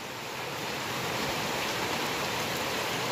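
Steady, dense rain falls outside a window in the early morning, a continuous close hiss of drops on surfaces with no pauses and no voices.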